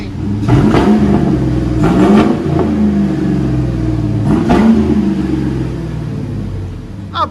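A Chevy Silverado 5.3L V8 fitted with a COBB exhaust revs up several times, deep rumbling blips rising over a steady idle, loud and close, with no talking.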